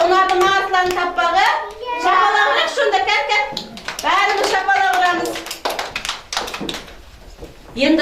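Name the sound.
children clapping hands at kindergarten party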